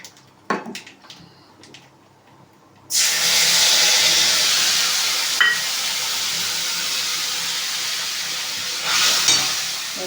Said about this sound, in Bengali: মাছ ভাজা তেলের মধ্যে একটু কালো জিরে ফোড়ন দিয়ে নেব, আর দিয়ে দেবো সর্ষে বাটাটা